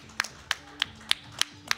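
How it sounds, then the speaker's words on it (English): Applause for competitors in an online Quake Live esports tournament, heard as six evenly spaced single claps, sharp and close, with no talk. "Let's give them a round of applause for competing"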